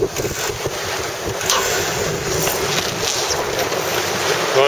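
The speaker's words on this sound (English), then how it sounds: "Watch out, there's some waves as well." Racing sailboat cutting through sea waves off Thorpe Bay in strong wind, constant loud wind buffeting and water rushing against the hull, with no speech.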